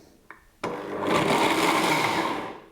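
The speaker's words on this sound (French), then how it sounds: "Et les noix, alors les noix ça va être un petit peu plus rapide, il ne faut pas les mixer trop longtemps." A kitchen blender briefly chopping walnuts: a faint click, then one loud, steady whirring run of about two seconds that fades slightly at the end, with no talking.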